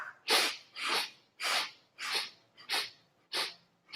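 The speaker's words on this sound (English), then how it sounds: "With the mouth closed, let's take 10 breaths starting now." Quick nasal breaths drawn in with the mouth closed, about seven sharp sniffing inhales in an even rhythm, close and fairly soft.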